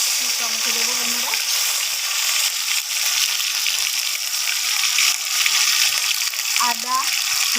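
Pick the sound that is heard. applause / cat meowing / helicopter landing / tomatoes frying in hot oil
tomatoes frying in hot oil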